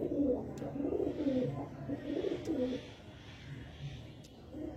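Pigeons of an old-line breed coo in a loft, soft repeated throaty calls in a steady rolling rhythm, close by, over low background noise.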